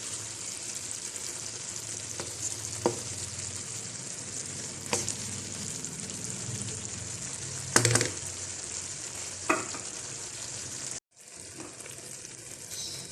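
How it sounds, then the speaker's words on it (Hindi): Tomatoes sizzle steadily in a pan for mincemeat, a close, continuous frying hiss broken by occasional stirring clatters and a brief dropout near the end, with no talking. "टमाटर को हम 1-2 मिनट भून लेते हैं।"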